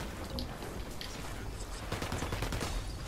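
Gunfire in the video game Ghost Recon Wildlands, a fusillade of fairly faint, rapid shots crackling over a dense noisy background and thickening toward the end.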